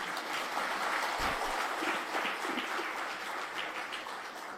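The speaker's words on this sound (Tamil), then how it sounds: "இவ்வளோதான் நீங்கள் கைதட்டுவீங்களா?" An audience at a Tamil pattimandram debate claps, a dense, lively burst of applause filling the hall continuously from start to finish.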